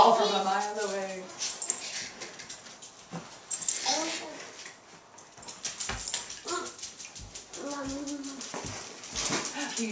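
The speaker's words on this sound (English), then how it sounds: "That's those dogs. That's it. That's it. Those dogs. Those dogs. The little dogs." Small dogs whimpering, yipping and barking in bursts indoors, close and fairly loud, mixed with someone talking and a voice throughout.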